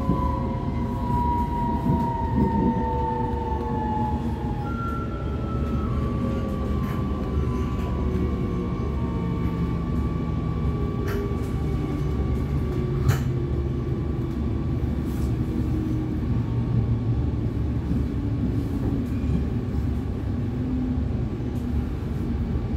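Amsterdam metro line 50 train running, a steady loud rumble of wheels on rail heard from inside, with gliding motor whine tones rising and falling throughout.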